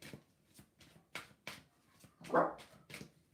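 A dog barks and whimpers indoors, a string of short sharp yelps spaced about every third of a second with one louder drawn-out whine in the middle, fairly close but not loud.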